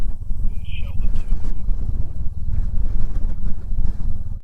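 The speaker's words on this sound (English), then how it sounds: "Very windy day, very noisy out there today." Strong wind buffeting the microphone at Kimmeridge bay, a loud continuous low roar with gusty swells and rumble throughout, close and dominant with no clear pauses.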